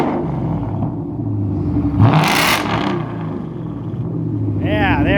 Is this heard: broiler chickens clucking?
no